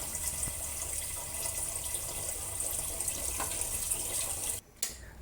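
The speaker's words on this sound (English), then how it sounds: "Then place in a pot of cold water enough to submerge the pork." Tap water runs steadily into a cooking pot to cover pork pieces, a continuous hissing pour that briefly cuts out near the end before resuming.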